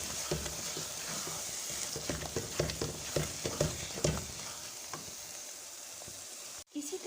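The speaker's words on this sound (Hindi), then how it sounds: "सबसे पहले हम इसमें 4 टेबल टीस्पून खोया ऐड करेंगे। ये देखिए इसे अच्छी तरह से मिक्स करेंगे।" Khoya being stirred into sizzling carrot halwa over a low flame, a steady frying hiss with scraping, clacking spoon strokes against the pan, ending in a brief knock.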